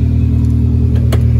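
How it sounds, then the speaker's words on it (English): A car engine running loud and steady, a low rumbling idle with a brief higher whir partway through, with the heater blower running, in a car with a fuel leak and overheating issue. "Now we're gonna go ahead and start the car again"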